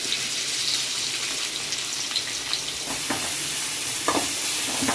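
Onions fry in coconut oil for a hotel-style chicken kurma. A continuous broad sizzle and hiss runs throughout, with soft stirring clicks and small crackling bursts near the end.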